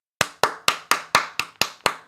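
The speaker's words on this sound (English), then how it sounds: "you may be wondering why you can't see my hands clapping" Hands clapping during a live stream: eight sharp, evenly spaced claps in a steady rhythm, close and loud, with no voices.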